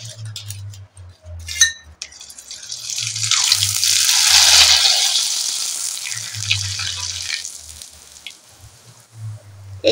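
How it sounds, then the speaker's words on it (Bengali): Potato papad dropped into hot oil in a pan sets off a loud, bubbling sizzle that swells for a few seconds and then fades, with a low hum and a few light clinks around it. "এই পাঁপড় ভাজার একটাই টিপস, একবারে কড়াতে দিয়েই সঙ্গে সঙ্গে তুলে নিতে হবে"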